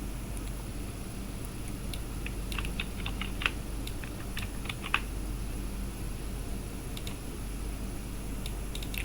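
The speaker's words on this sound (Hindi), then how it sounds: "अब मैं यहाँ पर टाइप करता हूँ 90" Keys on a computer keyboard click in a short, irregular burst of close taps over a faint steady hum, then fall mostly quiet, with no voices.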